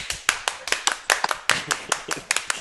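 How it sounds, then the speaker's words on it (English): A studio crowd claps hands in a steady, lively beat on a talk show, each clap sharp and close, with a quick repeating rhythm running throughout. "Everybody clap your hands."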